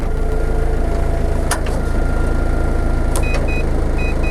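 A Mazda Bongo's engine idles with a loud, steady low rumble, while a few short clicks and a faint electric whine come from its power window switches.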